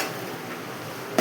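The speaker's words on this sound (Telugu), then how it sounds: "బాగా కలుపుకుందాం" Chili powder being stirred into a country chicken curry in a pot: a brief soft scraping stir under a low simmering hiss, ending in one sharp utensil knock against the pan.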